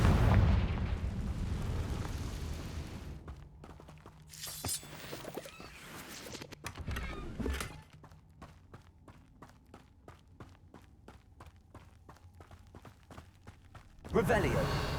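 Confringo blasting spells in Hogwarts Legacy burst with a heavy boom, then a quieter stretch of crackling pops and clicks, and a second loud blast near the end.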